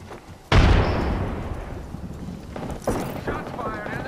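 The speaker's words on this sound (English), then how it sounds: "Shots fired and they're hitting me" Gunshot impacts landing on a player in Apex Legends, a sharp loud burst followed by a rumbling tail, then a second, softer hit a couple of seconds later under a talking voice.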